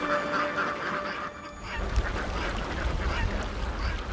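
A flock of about 6000 ducks quacks and honks together on a mangrove bay beach, a busy overlapping chorus of many birds outdoors, fading in and out with a low rumble underneath.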